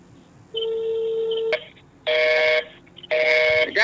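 Telephone tones: a sustained single tone followed by two bursts of buzzy, harmonic-rich signal, separated by short gaps, loud and close with no talking.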